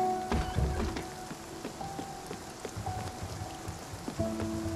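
Rain in the Spiritfarer video game, a steady patter of drops on surfaces with soft thuds and short tonal game chimes over it.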